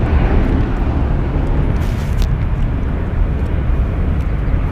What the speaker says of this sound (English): Departing here is American Airlines Flight 1889 going to Las Vegas. It's an Airbus A321